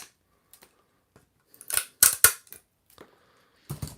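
Small plastic model kit pieces for a He-Man and the Masters of the Universe freight zone build are snapped and ripped off the back of a part, giving a few sharp close clicks and cracks amid quiet pauses.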